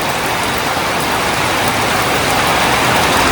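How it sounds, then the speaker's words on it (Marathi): Heavy rain pours down beside a beach-side café in Goa, a dense, loud, unbroken hiss of drops hitting surfaces with no voices. "किती जोरात पाऊस चालू झालाय बघा"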